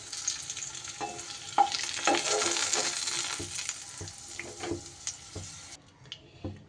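Potato pieces fry in hot oil, kept covered while they brown, giving a steady close sizzle with occasional pops and faint stirring, which thins out near the end.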